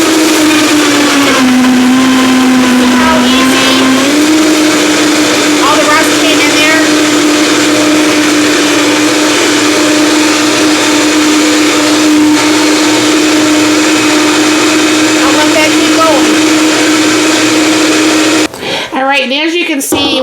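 Homemade tomato soup blends in a blender running on high, a loud, steady, close whine that holds a constant pitch and cuts off abruptly near the end.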